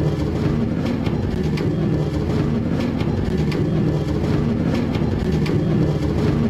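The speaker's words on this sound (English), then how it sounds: "I'm hopping in a minecart." A minecart rolls along rails in Minecraft, shown as a holographic demo, giving a steady, continuous low rumble with a faint rattle that stays even throughout, with no talking.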